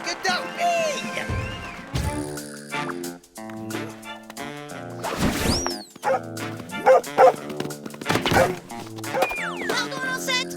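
A cartoon dog barks, yips and whimpers in a string of lively, expressive bursts over a musical soundtrack, with animated voices speaking around it.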